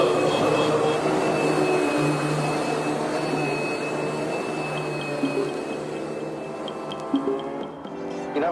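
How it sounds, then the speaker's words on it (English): Vacuum cleaner in a played-back advertisement, a continuous loud whining motor drone with a steady high tone, ending in a few clunks as it quiets near the end. "You know, with an ordinary suction cleaner,"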